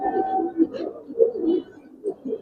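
A Giribaz pigeon, the father bird of a tournament-champion high-flying line, gives low throaty coos close by in short repeated phrases.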